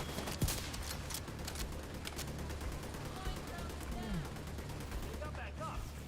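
Rapid gunfire crackles through a The Division 2 firefight, with dense repeated shots, a few sharper bursts and a brief whistling tone, under continuous battle noise.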